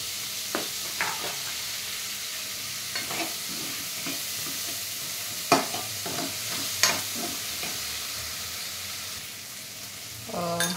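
Tomatoes hit a pan of frying besan bhindi, giving a steady hiss of sizzling oil broken by several scraping, clattering stirs of a spoon against the pan, close by and without speech.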